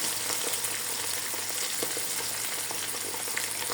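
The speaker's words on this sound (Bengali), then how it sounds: "দেখো এটাকে নাড়াচাড়া করতে" Boiled raw jackfruit stirred as it fries with ginger paste makes a steady, moderately loud sizzle, broken by light scraping of a utensil against the pan.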